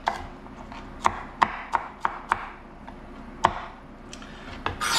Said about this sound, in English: Green pepper cut up.